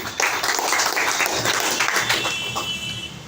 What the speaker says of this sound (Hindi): तो मैं चाहूँगा सबके लिए एक बार जोरदार ताली।